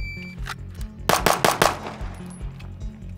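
Rapid pistol shots from a Staccato handgun during shooting drills, a tight string of five or six loud cracks in about half a second, with quieter distant shots from other shooters on the range before and after.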